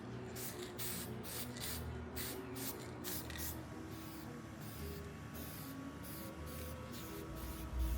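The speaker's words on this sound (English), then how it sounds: "We are priming with French lacquer." French lacquer primer sprayed onto lightly sanded furniture trim: a steady hiss of spray bursts with short pulses, then one continuous spray pass, close and even in level.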